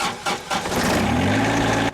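A John Deere 2305 compact diesel tractor, with glow plugs, cranks over with a few rhythmic starter pulses, then catches and settles into a steady, rumbling idle that is close and loud, before cutting off abruptly.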